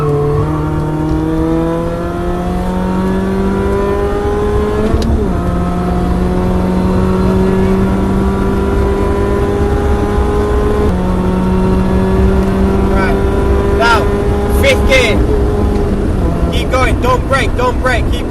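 Car engine on the Cadwell race track during a track day, accelerating hard through the gears with rising revs broken by shifts. A voice talks over it throughout.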